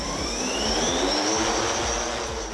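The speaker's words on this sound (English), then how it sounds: "the Sherpa drone is easy to fly" A Sherpa spray drone in flight gives a loud, continuous high-pitched whine with a faint rising tone, steady and close for the whole stretch, with no talking.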